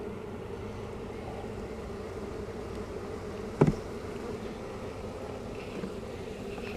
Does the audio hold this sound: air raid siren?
no